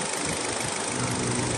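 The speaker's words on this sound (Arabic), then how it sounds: "صوت المحرك" Car engine running steadily, a continuous dense mechanical hum and rumble heard close up with no voices or breaks.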